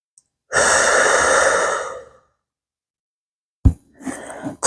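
One long, deep, breathy exhale during a calm bedtime yoga session, loud and close, then silence and a few softer breaths.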